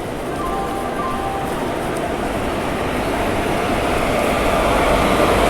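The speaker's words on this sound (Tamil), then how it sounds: "செந்தூர் எக்ஸ்பிரஸ் கிளம்பிடுச்சுங்க" The Sendhur Express train pulls out of a station platform, a loud, steady broadband rumble that swells slightly as it goes, with no voices over it.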